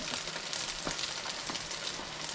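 Steady, dense sizzling of chiles frying in hot oil, crackling close up without a break.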